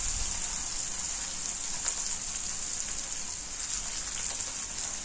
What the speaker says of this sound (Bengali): তারপর গুগলিগুলিকে ভালো করে কষিয়ে নেব।